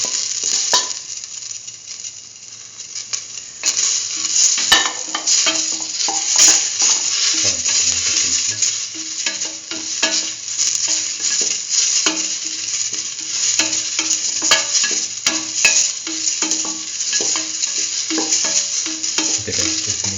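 Tomato paste fries and is stirred in a pan for a mustard lentil rice with fenugreek leaves, giving a steady close sizzle overlaid with frequent scraping stirs, with no talk.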